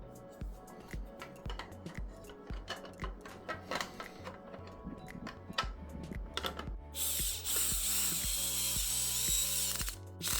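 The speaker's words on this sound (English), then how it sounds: "Tighten the screws, don't use too much force, and it's done." A ratchet wrench tightens the screws of a rear rack on an Engwe X26 e-bike, giving rapid clicking strokes in irregular bursts, followed by a steadier, denser whirring ratchet run near the end.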